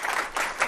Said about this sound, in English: can I first get a big round of applause for Ryan?